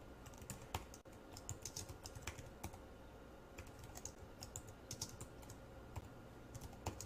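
Very quiet, close computer keyboard typing, an irregular run of soft key clicks for about seven seconds with no voice.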